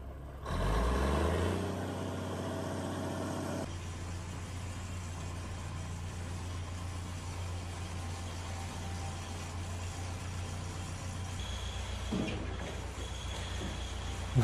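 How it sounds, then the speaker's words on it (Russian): An old small tractor engine idles nearby, a steady low chugging drone that kicks in with a louder burst at the start, then settles and runs evenly with no talk. "Видно старенький тракторець."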